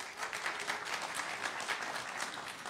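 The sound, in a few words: audience applause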